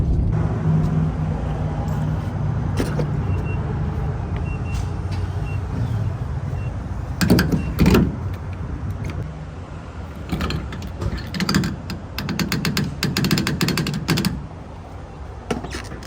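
A car idles and rolls in while pulling into a parking spot at a hair salon, a steady low engine rumble with brief clicks and rustles near the end.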